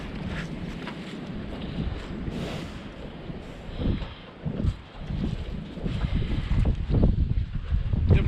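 Cold wind blows across a farm on a winter morning at cattle feeding time, a steady rumbling buffet of gusts against the microphone that swells louder in bursts toward the end.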